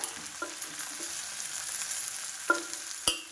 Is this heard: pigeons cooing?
no